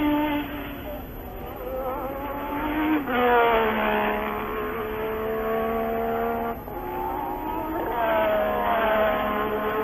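Formula 1 race cars on an opening lap, high whining engines rising and falling in pitch as they pass, loud and continuous with engine note shifts every few seconds, recorded from a broadcast.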